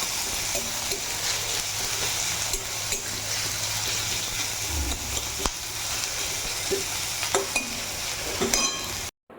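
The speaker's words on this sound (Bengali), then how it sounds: "তো মাছ ভাজা হলো" Large bata fish frying in a pan, a continuous close sizzle with occasional sharp pops and clatters, ending abruptly with no voices.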